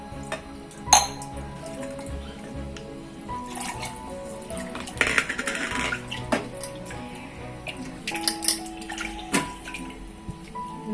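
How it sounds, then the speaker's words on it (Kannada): Water poured into a cooking pan of masala while making patrode, a pouring, splashing sound under a few sharp clinks of pots and utensils, moderately close with no talking. "ಒಂಚೂರು ನೀರು ಹಾಕ್ತೇನೆ"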